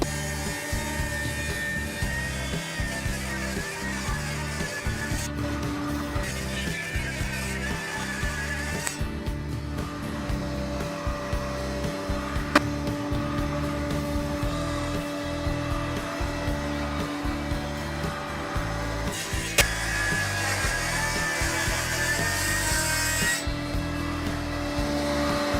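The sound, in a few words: table saw ripping wood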